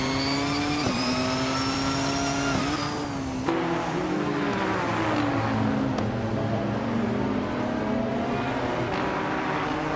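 Race cars roaring around a track in a racing video game, engine pitch rising and dropping as they shift and overtake, a loud continuous near drone of several motors with no talk.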